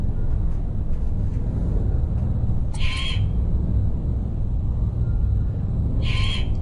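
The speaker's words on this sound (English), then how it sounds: "That's a noisemaker, not an animal." Two short, bright hooting calls from a noisemaker in the Myst Online game, set in a desert. They ring out a few seconds apart over a steady low rumble.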